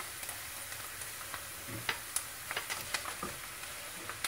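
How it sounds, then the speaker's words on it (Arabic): Vermicelli and onion toasting in a pan, a soft low sizzle with scattered spoon taps and scraping clicks from stirring, fairly quiet and close, no talking. "بعد ما تحمص عندي البصل راح اضيف الشعرية،"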